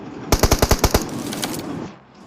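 Rapid automatic gunfire from the mobile battle royale game BGMI (Battlegrounds Mobile India), a burst of about seven loud, evenly spaced shots followed by fading game ambience.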